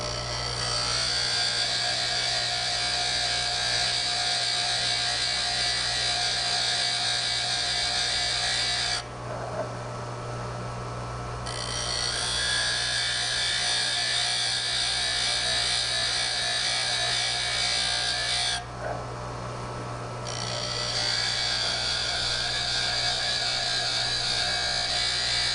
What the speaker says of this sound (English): I'm going to grind a little bit more on the long point